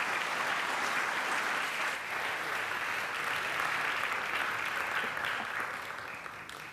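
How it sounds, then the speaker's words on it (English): Sustained applause from a symposium audience, a thick continuous wash of clapping that stays strong for several seconds and then begins to thin and fade toward the end. "You have applauded your expectations"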